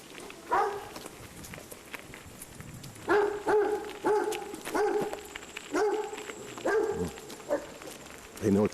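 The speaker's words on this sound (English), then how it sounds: "And we have more barking dogs." Several dogs bark outdoors in short bursts, single and doubled yaps at moderate distance, with quiet gaps and faint rustling between them.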